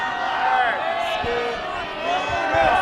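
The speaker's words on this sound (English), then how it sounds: "our crowd is definitely not happy about any of that just went down" Baseball crowd at a CIF-SS high school game between Crescenta Valley and Arcadia grumbling and calling out in displeasure at an umpire's call, a steady murmur of voices with a few louder shouts.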